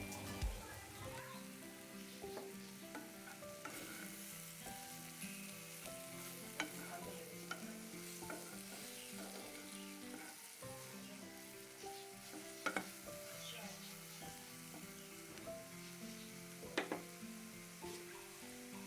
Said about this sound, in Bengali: ভালো করে খুন্তি দিয়ে একটু নেড়ে চেড়ে নিচ্ছি।